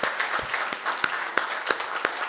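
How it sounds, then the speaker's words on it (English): A conference audience at an inaugural session on Japan-India cooperation applauds chief guest Nitinbhai Patel: a short burst of scattered, moderately loud clapping. "I would request all of you to give a very big round of applause to Nitinbhai"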